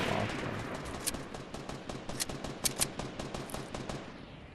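Rapid bursts of gunfire from a Fortnite match, sharp repeated shots cracking in irregular clusters over a steady background of game noise, with no talking.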